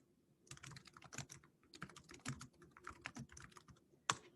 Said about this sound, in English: I'm just going to click in this box and type in the new file name.